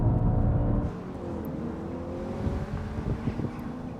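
A naturally aspirated Audi RS4 accelerates hard in a rolling drag race against a B9 model, a loud engine roar that is strongest at the start, then settles into a steady whirring drone with wind noise.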